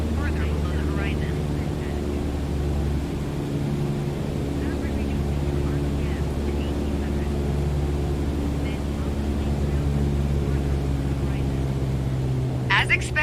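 A propeller airplane engine in Microsoft Flight Simulator drones steadily at reduced RPM, a loud continuous hum with layered harmonic tones, while someone speaks over it throughout.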